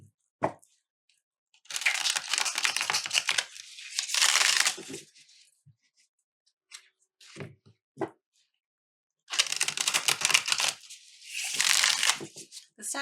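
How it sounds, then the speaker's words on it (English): Tarot card deck being shuffled, two long crisp riffling bursts separated by quiet gaps and a few short card taps, close and fairly soft, with no voice. "This deck used to kind of feel funny to shuffle, but now I really like the way it shuffles."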